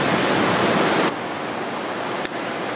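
An IPC RO-Mote single nozzle sprays a light mix of water and Glass Gleam 4, a steady close hiss that cuts off after about a second, followed by quieter background noise and a brief click.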